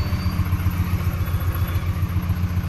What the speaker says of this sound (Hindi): आइडल पे है मशीन